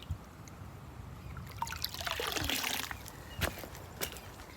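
Clear stream water trickles and gurgles into a container outdoors in a scenic natural spot, soft and close, with a few splashy bursts and sharp drip clicks toward the end and no talking.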